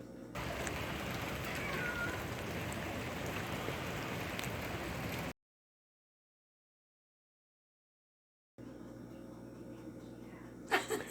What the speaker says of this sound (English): It's pouring the rain outside.